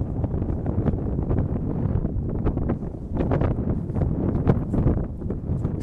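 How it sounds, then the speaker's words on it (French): Gusty wind buffets the microphone outdoors near Montpellier, France, with low, rumbling roars that rise and fall, with no one speaking. "il y a pas mal de vent sur le secteur."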